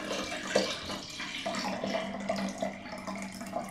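Water runs steadily into a shaker bottle while a protein shake is prepared, a close, soft continuous pouring hiss with small splashy gurgles throughout.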